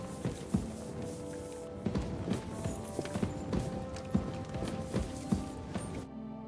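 Horse hooves clip-clop in steady, evenly spaced steps in Kingdom Come Deliverance 2, a medieval game, sounding close and moderately loud over a low ambient bed before cutting off near the end.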